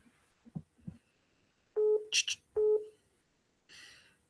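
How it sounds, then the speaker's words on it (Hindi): A telephone announcing an incoming call with a few short electronic tones during an online devotional discussion, preceded by faint clicks and followed by a softer buzzing tone. "प्रतिभा दीदी, एक फोन आ रहा है।"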